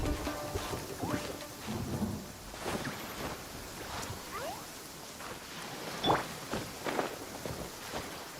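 A Genshin Impact thunderstorm with steady rain and scattered thunder cracks, several sharp strikes sounding over a constant soft rainfall at moderate loudness.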